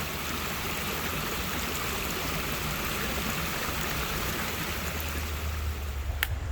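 Steady, loud rush of river water tumbling over rocks in an isolated stretch of river, a dense continuous roar that stays constant throughout, with a faint click near the end and no voices.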